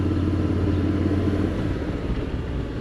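A Honda X-ADV 750 motorcycle engine drones steadily while riding, a loud, continuous low rumble with wind noise and no talking.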